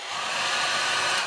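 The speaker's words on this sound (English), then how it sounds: "you have to get your hairdryer" A hair dryer blows steadily and loudly, close by, warming the back cover of a Xiaomi Redmi 10 phone to soften it before opening, a constant whooshing hum with no pauses.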